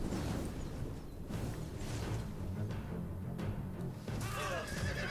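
Horses whinnying amid a cavalry battle in Rome 2 Total War, shrill neighs rising over a noisy clash of combat and distant rumbling, moderately loud and somewhat distant.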